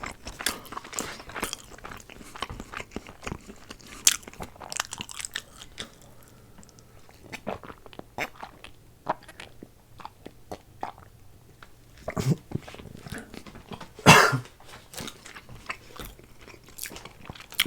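Homemade chocolate is bitten and chewed up close, with sharp crunchy bites and a scattered rhythm of wet chewing and smacking over quiet pauses.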